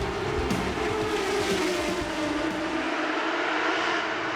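Formula Renault 3.5 Series race cars roaring away at a race start in 2007, a loud, sustained engine blare with rising and shifting pitch as the pack accelerates, no talk heard.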